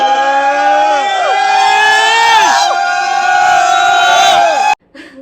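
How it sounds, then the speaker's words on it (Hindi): A large crowd of QNet event attendees shouts loudly and continuously in a big arena, with long rising and falling chanted calls, then it cuts off abruptly near the end. "सारे जो भी क्यूनेट के लोग वहाँ पे पहुँचे हुए सारे चिल्ला रहे हैं"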